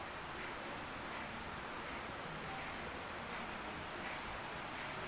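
Steady rushing water from a river flowing just below the mouth of Goa Lawah cave, a broad, even wash with no voices.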